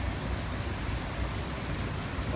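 Water rinsing water pump parts, a steady broadband wash of running water that continues evenly at close range with no pauses.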